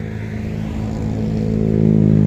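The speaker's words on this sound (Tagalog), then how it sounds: "Ito yung motor nila." A nearby motorcycle engine idles with a steady low throb that grows gradually louder and fuller over a couple of seconds, heard on its own.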